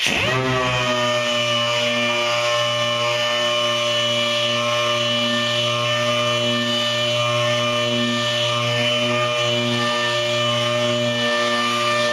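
A power tool grinds body putty on a Duramax truck with a loud, steady, high-pitched whine that keeps going without a break, close up and with no talking.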